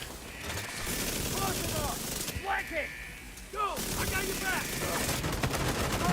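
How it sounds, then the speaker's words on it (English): SMG gunfire in a video game, loud rapid bursts broken by short pauses, with a voice talking over the shooting. "It's better for me to just run around and shoot shit. I have an SMG."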